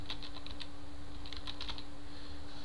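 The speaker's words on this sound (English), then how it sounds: "typing some words" Someone types on a computer keyboard in quick, light bursts of clicks with short pauses between them, close up over a low steady hum.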